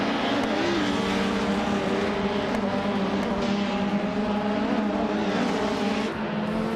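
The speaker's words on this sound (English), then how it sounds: "Deplorable is leading the race in a 1999 Nissan Primera P11" A 1999 Nissan Primera P11 racing in a video game: a steady, loud engine drone with a high whining tone that holds throughout, with slight pitch shifts as the car accelerates.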